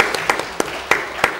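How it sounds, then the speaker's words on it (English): Lecture audience applauding Mr. Alimov after a public talk on the Belt and Road, a short burst of scattered claps with a few sharp individual hits standing out over a crowd wash. "let's give Mr. Alimov a round of applause"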